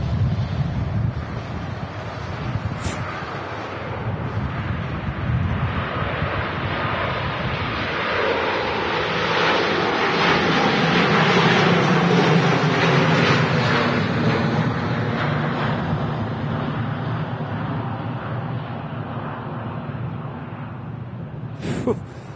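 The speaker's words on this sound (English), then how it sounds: "We're going to spray the power in them Rolls-Royce XWB engines." A large airliner with Rolls-Royce XWB engines takes off at full power from Manchester Airport; a broad, heavy roar builds and swells for about twenty seconds, peaking midway before gradually thinning as it recedes.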